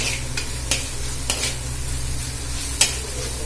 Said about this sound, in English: I will be putting green chilies in my namkeen sabudana. The green chilies goes in.